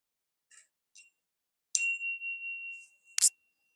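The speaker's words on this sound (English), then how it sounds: "Call it the bell of mindfulness" A mindfulness bell rings once during a talk on Thich Nhat Hanh: a clear, sustained ringing tone that fades, followed by a sharp metallic clink, with a few faint chirps before it.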